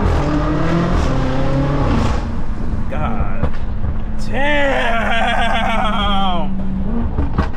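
BMW X5M with a loud aftermarket catback exhaust revving hard: deep engine roar with repeated rising and falling revs, close and loud, and a voice briefly exclaiming over it.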